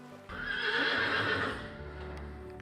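An old Lipizzaner horse in a stable at the Piber stud gives a single loud, close whinny lasting over a second, followed by low shuffling noises.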